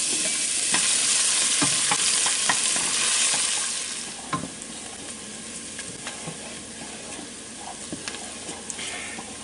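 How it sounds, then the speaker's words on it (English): Onions and garlic fry in a pan for marinara sauce, a steady broadband sizzle with repeated close stirring clicks and scrapes, louder for the first four seconds then settling to a softer crackle with no talking. "add the onions and the garlic and just cook them until you just start to get a little color on the garlic"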